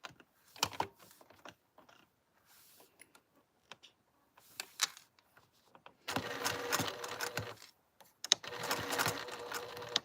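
A sewing machine top stitches around a pocket with a 1/8-inch seam allowance, with sparse clicks and handling first, then two steady, close bursts of rapid mechanical stitching separated by a short pause.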